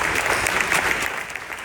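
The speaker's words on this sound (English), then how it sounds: "Give the organizers another big applause." Audience applause for the organizers at the close of a mycotoxin research workshop, a dense, steady clapping from a sizable crowd that holds at an even level throughout.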